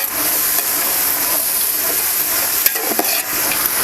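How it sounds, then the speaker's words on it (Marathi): Mixed vegetables roast in a pan for a large batch of pulao, with a loud, dense sizzle and a few brief clatters of stirring. No one speaks. "आपल्याला सगळ्या ना भाज्या वगैरे पूर्ण असं भाजून घ्यायचं"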